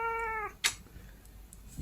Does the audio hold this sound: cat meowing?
yes